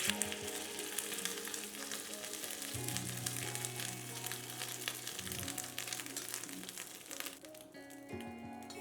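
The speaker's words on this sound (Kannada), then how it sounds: "ಎಣ್ಣೆ ಕಾಯ್ದಿದೆ ಒಂದು ಸೌಟು ಹಾಕ್ಕೊಳ್ಳೋಣ" Dosa batter ladled into hot oil in a pan for masala bun dosa, giving a steady, close hiss of sizzling that continues throughout, with a low hum beneath and no talking.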